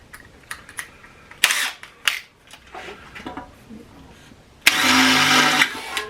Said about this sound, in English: let's try and have a go using twist drills